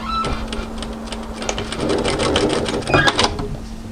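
A sewing machine stitches an adjustable crossover-back apron, running in a fast rapid patter that speeds up and pauses briefly, close and clear, with a little quiet talk nearby.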